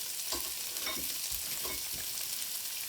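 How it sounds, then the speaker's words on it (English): Coarsely chopped red onions sizzle and fry in a Remoska Tria cooker with sausages and beans, a soft steady crackle with a few faint stirring scrapes, quiet throughout. "now I'm going to add the red onions"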